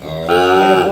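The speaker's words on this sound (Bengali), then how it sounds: "এটা হচ্ছে বকনা বাছুর" A heifer calf, likely Sahiwal breed in a village, lets out a single drawn-out moo, steady and fairly loud, close by with faint background noise before it starts.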